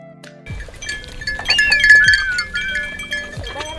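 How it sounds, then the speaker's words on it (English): Goats bleat on a drought-hit farm compound in Kenya as they are watered, with clinking and scattered thumps nearby. "we find Reverend Silonkoi watering what remains of his goats."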